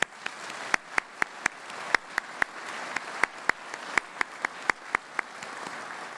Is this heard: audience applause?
yes